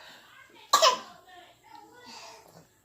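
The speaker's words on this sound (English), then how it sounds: "She can be like literally fake coughing." A baby fake-coughing: one sharp, fairly close cough burst near the start, followed by softer fussy vocal sounds from the cranky, sleepy infant.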